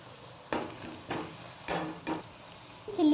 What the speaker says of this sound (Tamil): இது வதங்குற வரைய நம்ம வெயிட் பண்ணணும்.